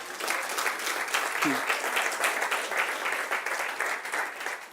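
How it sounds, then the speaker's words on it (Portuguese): Applause from a church congregation, a dense, steady wash of many hands clapping that holds for several seconds, with a brief voice surfacing partway through. "dê um aplauso forte para o Senhor"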